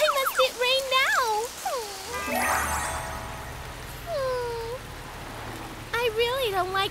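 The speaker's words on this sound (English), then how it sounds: "Oh, whoa, it's raining!" Rain begins falling in a Tayo children's cartoon: a brief burst of hissing rainfall in the middle, surrounded by animated character voices and playful sound effects.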